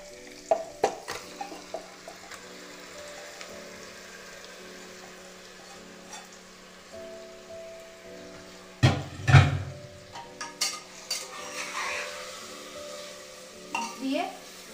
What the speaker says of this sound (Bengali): ম্যারিনেট করা মটনটা 2 মিনিট ভাজা হয়ে গেছে